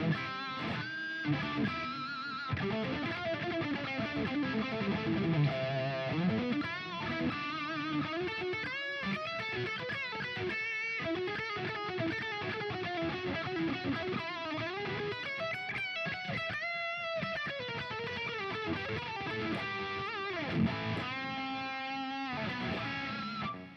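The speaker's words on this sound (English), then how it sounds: "my usual solo sound, which, as always, turns on delay, reverb, boost." An electric guitar through a Fender Tone Master Pro with delay, reverb and boost plays a sustained, flowing solo, notes bending and ringing out continuously.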